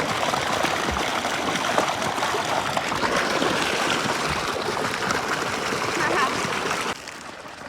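Cold water runs steadily in a village stream, a continuous close rushing and trickling wash that drops off abruptly near the end, with no clear talking over it.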